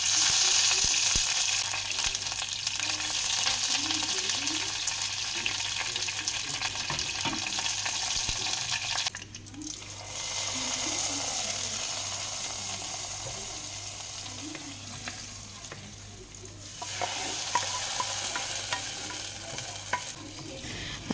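Curry leaves crackle and sizzle in hot oil while tempering a Kerala-style coconut moru curry, a steady close frying hiss with brief stirring scrapes and a short lull partway through.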